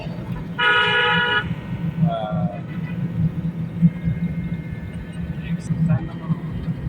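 A car horn gives a loud, sustained honk of about a second during a driving lesson, followed by a shorter faint beep, over a steady engine rumble and an instructor talking.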